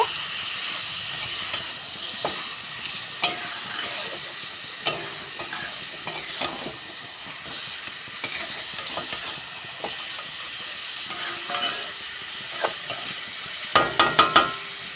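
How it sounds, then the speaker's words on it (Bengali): Pangas fish is stirred into cooked spice paste in a frying pan, a continuous sizzle under repeated scraping and clattering spoon strokes, sharper knocks bunching near the end. "এখন এখানে দিয়ে দেব মাছটাকে দিয়ে ভালো করে মশলাটার সঙ্গে মিশিয়ে নেব।"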